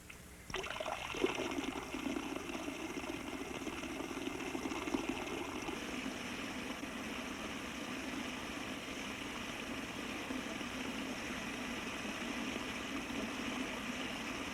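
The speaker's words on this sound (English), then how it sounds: "We placed a second stream of drops next to the one we were using a moment ago." A thin steady stream of water drops falling continuously in a Lord Kelvin water dropper, a soft constant trickling hiss that holds unchanged throughout.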